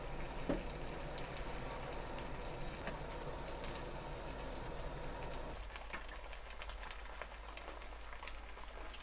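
Two eggs frying in a pan for a thin egg garnish, heard as a steady, close sizzle with scattered crackles that continues throughout and turns a little thinner partway.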